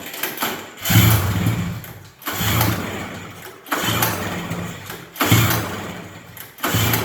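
A flooded small engine cranks repeatedly in a few long straining bursts separated by short pauses, loud and close, without catching into a steady run.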